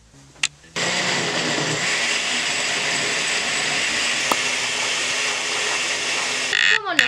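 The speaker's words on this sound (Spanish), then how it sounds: "Y esto lo vamos a llevar a licuar." A blender purees tomato, garlic, onion and about half a liter of water for Mexican red rice, a loud steady whirring drone that starts abruptly after a brief clatter and runs nearly seven seconds before cutting off.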